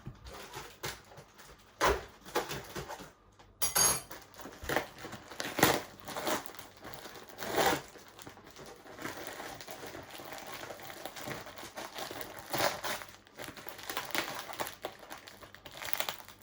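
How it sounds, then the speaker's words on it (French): Plastic packaging of a pair of sunglasses being opened, with loud crinkling and crunching bursts repeating irregularly at close range. "Unboxing de mes petites lunettes de soleil."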